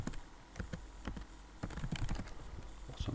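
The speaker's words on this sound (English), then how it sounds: "So whenever I type something," Fingers tap out quiet, irregular keystrokes on a computer keyboard during a text-editor demo. Short runs of clicks are separated by small pauses, with no talking over them.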